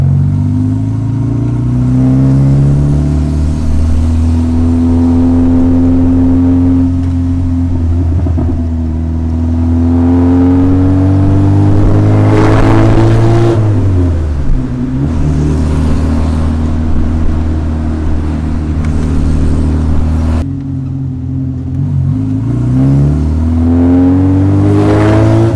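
A Morgan 4/4 sports car's engine revs and accelerates under way with a loud, close, continuous drone whose pitch climbs and falls through gear changes, with no voices.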